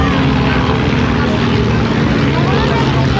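Propeller aircraft flying over the Blackpool airshow, a loud continuous drone that fills the open seafront air and holds steady throughout, with crowd noise and a voice talking beneath it.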